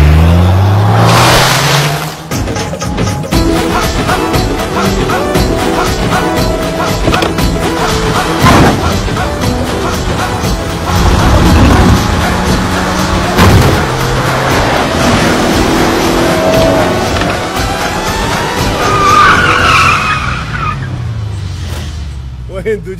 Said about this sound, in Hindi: आप गाड़ी बड़ी अच्छी चलाती है